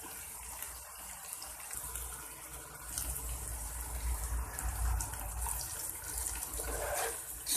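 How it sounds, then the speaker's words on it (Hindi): A little water is poured into a hot pan of roasting masala, giving a steady close hiss and sizzle that swells slightly toward the end. "थोड़ा सा पानी डाला मसाला भूनने के लिए।"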